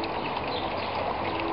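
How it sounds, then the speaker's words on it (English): Water in a garden fish pond gives a steady, close rush of flowing and splashing that holds evenly the whole time, with nothing else heard. "now you can hear the water no matter where you are in the garden"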